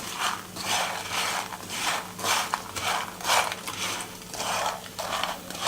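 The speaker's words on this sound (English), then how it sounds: "Actually remove them from the fire and continue to stir, and they'll become completely covered with the sugar" Peanuts being stirred through melting sugar in a pan off the heat for garrapiñadas, a continuous close scraping and rattling with rhythmic gritty strokes roughly every half second and no talking.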